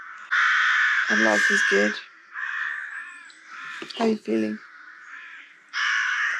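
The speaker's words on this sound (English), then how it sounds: "our crow friends are so loud" Crows cawing loudly near a wild campsite along the South Downs Way, several harsh drawn-out caws in bursts, close and prominent, with people talking between and over them.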